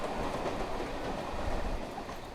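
A Mumbai suburban local train rolls along the rails, a steady, loud rumble with faint clickety-clack from the wheels running continuously throughout.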